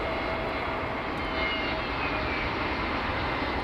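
Jet airliner landing at London Heathrow in wet weather, a steady loud broadband engine roar with whine on top, close and continuous throughout with no voices.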